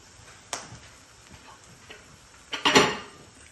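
A lid clatters onto a pan of gobi keema, with a small clink early on and a louder rattling metal clank near the end, as the pan is left half covered.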